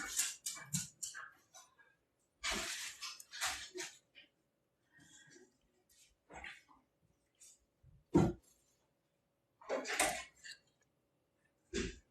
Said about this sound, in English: That's the panting dog that you hear.